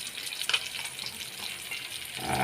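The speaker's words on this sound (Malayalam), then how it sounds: "ചട്ടി കിടന്നിങ്ങനെ മൊരിയുന്നു കണ്ടോണേ." Mud fish fry in a pan with a steady, close sizzle and crackle, brief stirring clicks on top, and the frying growing slightly louder toward the end.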